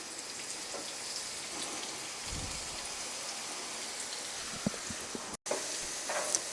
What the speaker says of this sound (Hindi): उसी के साथ मैं अदरक लहसुन का पेस्ट डाल दूंगी।